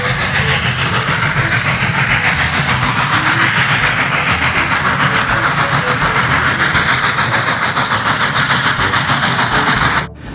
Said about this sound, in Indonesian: Wah, ini kereta api